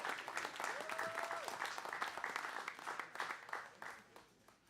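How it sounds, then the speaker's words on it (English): A crowd applauds steadily throughout, dense clapping with a brief whistle-like tone early on, fading slightly toward the end. "So a big round of applause for NAMI for"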